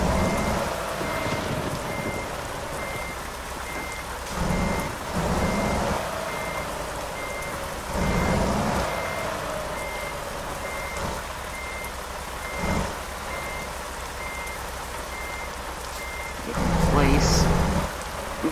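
A truck's reversing alarm in American Truck Simulator beeps in an even, repeating pulse through steady rainfall, with occasional low rumbles of thunder swelling underneath.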